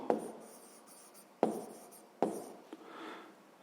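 Pen writing a number on paper for a sixth-grade maths exercise, heard as a few soft, close scratching strokes separated by short pauses, with no talking.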